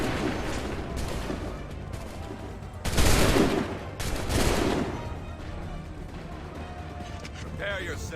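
Musket volleys crackle in Assassin's Creed III, a ragged burst of overlapping shots followed by a second, lighter volley amid battlefield noise, while voices shout orders over the top.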